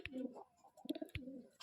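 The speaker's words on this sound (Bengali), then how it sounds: "এটা আন্ধ্রা পায়রা আছে।" A female Andhra pigeon at a bird market in Magrahat coos softly in a few short, throaty, rolling phrases, faint and close.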